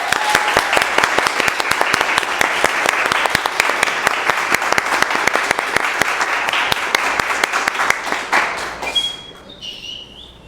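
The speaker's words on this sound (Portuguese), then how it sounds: "Eu peço uma salva de palmas para o Matheus Ferreira." A loud, dense round of applause from a company audience for a salesman being promoted, sustained for about nine seconds before it fades out quickly.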